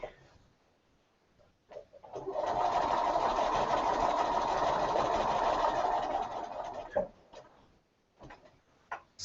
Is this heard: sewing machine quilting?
yes